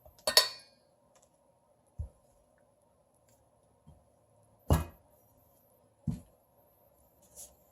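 Several sharp metallic tablespoon clinks against a bowl while ingredients are spooned into a homemade moisturizing cream, a handful of isolated taps spaced a second or two apart in a quiet room.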